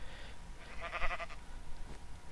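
A single sheep bleat in Minecraft, a short wavering call in the middle of a quiet, slightly noisy background, with nothing else around it.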